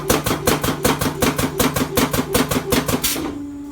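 A TAISHENG TS-J37 auto frame joint machine, out of adjustment, runs with a fast, steady mechanical clatter of evenly spaced knocks and a low hum, close and loud for about three seconds before stopping with a lingering tone.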